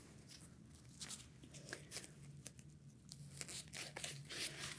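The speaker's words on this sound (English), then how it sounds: "And then peel that layer off, and we will fold this over the toes." Adhesive backing being peeled off plastic casting material during a foot and toe casting and compression wound-care demo, a run of close, dry tearing and crinkling strips.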